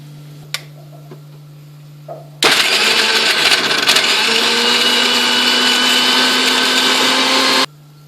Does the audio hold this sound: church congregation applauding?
no